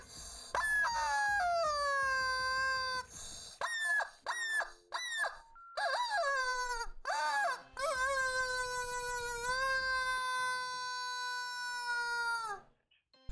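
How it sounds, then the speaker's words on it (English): A rubber chicken toy squeaks in long, loud, strained honking squawks, several drawn-out wails separated by brief gaps, close and alone. "The rubber chicken wants to chime in on this."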